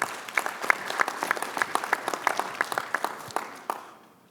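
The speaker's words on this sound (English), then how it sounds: "So give yourselves a round of applause." Audience applause at a keynote speech, a steady patter of many hands clapping fairly close for about four seconds before fading away at the end.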